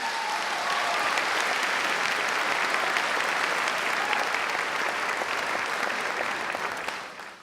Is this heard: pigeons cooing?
no